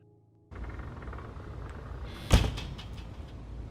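A door shuts with a single sharp thud midway through a horror short film, standing out against steady low rumbling ambience.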